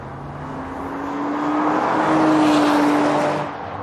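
A 2017 Audi RS5 engine pulls steadily while driving, its tone rising and swelling loudly through the middle before easing off, with road and wind noise underneath and no voices.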